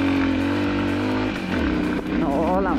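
An MRX 150 enduro motorcycle rides over rough off-road terrain, its engine droning steadily and then climbing in pitch as it revs, loud and close throughout.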